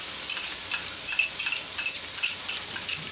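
Chili peppers and minced garlic fry in a little oil at the bottom of a pot, a bright, continuous crackling sizzle with light pops throughout, no voices.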